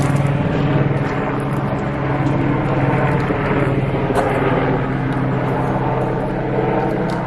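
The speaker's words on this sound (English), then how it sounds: "that is helicopter noise" A helicopter flies over the alpine mountains around Kamikochi, Japan. Its loud, continuous rotor and engine drone fills the whole clip with a steady, throbbing roar.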